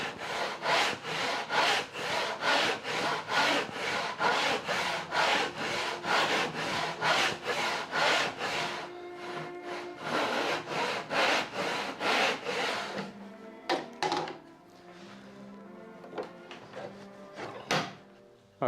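Hand saw with crosscut teeth cutting through the wood of a door under restoration, steady rhythmic back-and-forth strokes for about nine seconds, then slower, halting strokes with scraping and handling noises, close and fairly loud.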